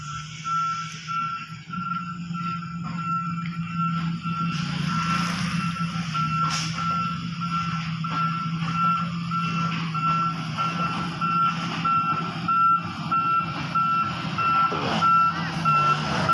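Reversing beeps from an Isuzu ten-wheeler dump truck at a curved roadside, steady repeating tones over a continuous low engine idle, loud and close, with no talk.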